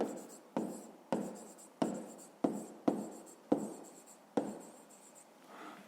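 Chalk or pen strokes writing out a fifth-grade math exercise solution, a series of about eight sharp, evenly spaced taps and scrapes with short decays, moderately close and alone without talk.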